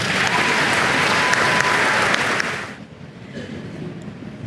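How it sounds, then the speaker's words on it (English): A loud, dense round of audience applause at an academic awards banquet fills the hall and then drops off to quieter scattered clapping and room murmur. "Please join me in a round of applause."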